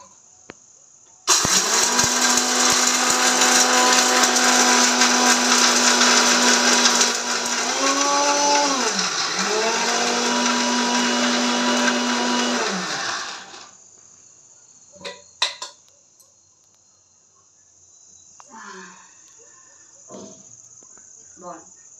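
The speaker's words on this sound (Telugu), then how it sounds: "మిరియాలు జీలకర్ర ఇవి ధనియాలు అంతే మిక్సీ కట్టుకోవాలి" Mixer grinder blending pepper, cumin, coriander, coconut and garlic for rasam: a loud, steady motor whine that holds for about twelve seconds, dips in pitch briefly as the load shifts, then shuts off, followed by a few clicks and clattering.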